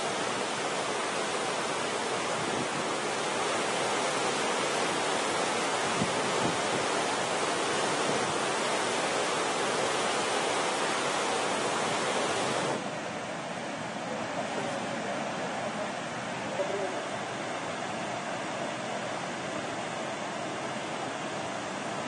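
The Krishna river, in flood above the danger level after its crest gates were opened, rushes past with a loud, constant roar. The roar drops slightly in level partway through and continues without any talking.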